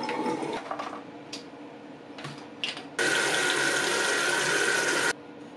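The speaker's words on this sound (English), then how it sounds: "we'll still take this to the sink with some warm water" Warm water runs from a tap into a sink while paint sprayer parts are washed, a steady bright hiss lasting about two seconds after scattered clinks and splashes.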